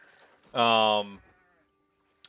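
A single sheep bleats in Age of Empires IV, a short, clear, wavering call heard close and alone, followed by quiet and a faint click.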